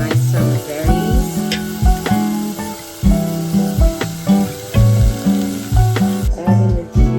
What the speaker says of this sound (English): I'm gonna go ahead and boil down our seasonal berries, our nice summer berries